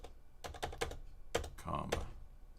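Someone types on a computer keyboard nearby, with quick clusters of soft key clicks, faint and close, and no talking over them.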